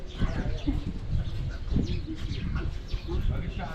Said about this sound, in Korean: 참새도 추운가 보다.